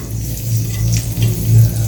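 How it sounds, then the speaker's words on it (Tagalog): Fried rice sizzles in a pan, a steady close hiss and crackle of frying over a low background hum, swelling slightly in waves for a couple of seconds. "Mag-fried rice naman na ako."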